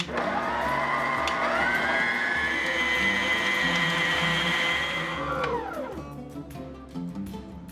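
An electric mixer beats cookie dough with ghee and oil, a steady whirring motor drone that holds for several seconds, then slows and winds down near the end.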